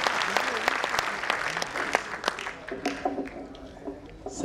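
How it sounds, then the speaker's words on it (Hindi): Applause rises from the audience at a Hindi hasya kavi sammelan comedy poetry show, a scattered crowd clapping at moderate distance that thins and fades, with a voice briefly heard near the end. "जोरदार तालियां बजाइए भाई दिनेश बाबू।"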